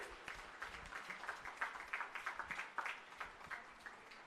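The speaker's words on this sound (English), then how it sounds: "A big round of applause for Bhuvana PV." An audience at a graduation ceremony applauds a gold medal recipient, with faint, distant, rapid clapping that swells and stays steady throughout.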